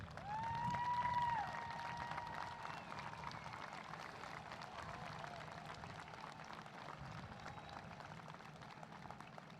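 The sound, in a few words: audience applauding parents at a graduation ceremony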